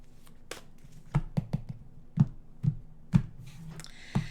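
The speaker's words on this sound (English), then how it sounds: "let's turn to the cards" Tarot cards are being shuffled and handled close by in a quiet room, giving soft irregular taps and riffling flicks with no one speaking.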